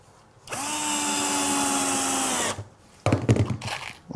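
A power drill drives a screw into pine and plywood in a single sustained whirring burst of about two seconds, followed by a short pause and a burst of clattering handling noise nearby.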